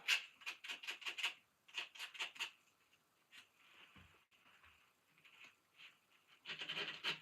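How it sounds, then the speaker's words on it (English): Rusty bicycle hub poles being sanded by hand in a workshop, heard as close, quiet rhythmic rasping strokes in quick bursts, a pause with light scuffs, then another burst of rubbing. "If the poles are a bit rusty, you can sand them a little bit to sand off the rust."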